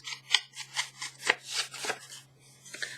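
A tool scrapes and rubs along paper edges in a series of short, close, crisp scratches of uneven spacing, with no talk.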